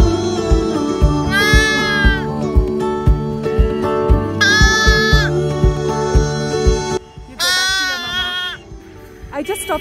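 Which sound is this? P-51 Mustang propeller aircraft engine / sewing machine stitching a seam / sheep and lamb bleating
sheep and lamb bleating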